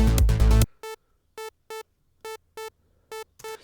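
A trance bass synth played on Spire with a preset, sounding as short, evenly spaced stabs of a bright harmonic tone after a brief dense burst of music, the stabs separated by silence and heard alone.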